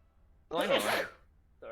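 A single sharp sneeze bursts out in a quiet room, followed by a person speaking briefly.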